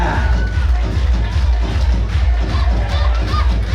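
Spectators at a Deepavali Trophy tug of war tournament in Sudambala cheer and clap, a dense, loud crowd roar with babble and rhythmic low thumps running throughout, with no clear individual voices.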